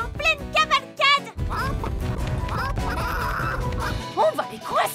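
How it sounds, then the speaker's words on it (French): Frantic cartoon chicken squawks and clucking burst out amid a noisy rumbling stampede, with a voice speaking French near the end. "Les poules sont en pleine cavalcade."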